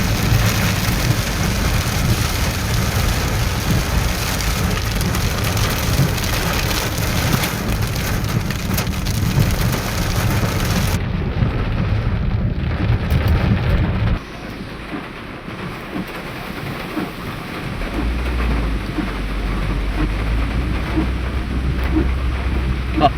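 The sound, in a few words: heavy rain in a rainforest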